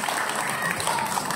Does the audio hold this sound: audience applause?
yes